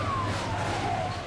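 Wailing siren from fire engines responding to a blaze at a police dormitory on Jalan Veteran Selatan in Makassar, sweeping over a broad wash of street and traffic noise, close and loud.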